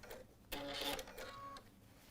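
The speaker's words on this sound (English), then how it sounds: "So we just sewed down this short side and this short side" A sewing machine stitches the short side of an Out and About tote bag in a short burst of about a second, close and fairly quiet, with no talking.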